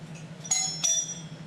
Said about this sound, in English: There's a ring at the bell.